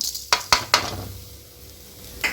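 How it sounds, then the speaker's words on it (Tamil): Rock salt is dry-roasted in a pan, with three sharp scraping clinks of a spatula in quick succession, then a quiet pause before one more stroke. "லாஸ்ட்டில் உப்பு போட்டு வதக்கலாங்க"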